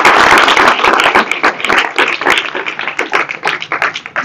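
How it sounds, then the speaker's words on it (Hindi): Loud, close clapping from an audience honoring children at a drawing competition, a fast irregular patter of many hands that starts full and thins toward the end, with no speech. "आपके लिए भी तालियां।"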